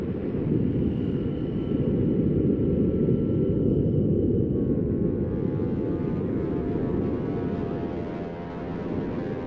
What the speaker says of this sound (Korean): 화성의 헬리콥터 인제뉴어티의 비행 소리 역시 들어볼 수 있었습니다